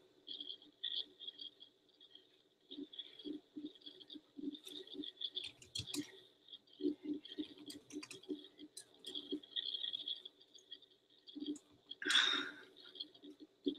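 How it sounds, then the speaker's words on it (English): Someone types on a computer keyboard during a live stream, with quiet, irregular bursts of key clicks and taps spread over about fourteen seconds, including a louder clatter near the end, close to the microphone with no talking. "So I'm sitting here typing."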